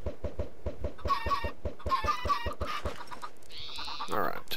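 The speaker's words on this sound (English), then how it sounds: "Stay in there, chickens." Chickens in a Minecraft modpack game cluck in a rapid, regular series of short pulses, with a few higher squawks layered over them and a brief swooping tone near the end, close and clear with no one talking.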